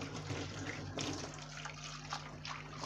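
Pot lids being washed under running tap water at a kitchen sink, a steady close hiss of flowing water with faint clinks and splashes throughout.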